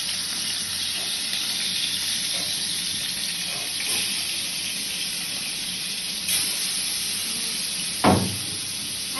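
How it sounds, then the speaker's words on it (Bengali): Spices fry in very hot oil in a kadai, giving a steady, close sizzling hiss with faint crackles and one sharper pop near the end. "আর এই দেখো মশলা কষাচ্ছি"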